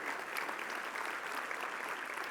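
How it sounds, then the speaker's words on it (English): Steady applause from a large audience at a national conference awards gala, a continuous even clatter of many hands heard alone for a couple of seconds. "let's give all of our presenters and speakers a round of applause and our board of directors"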